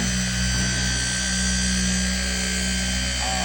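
Machine polisher running a pad with compound to remove hazing from paintwork, a steady close whirring drone with a constant tonal hum throughout.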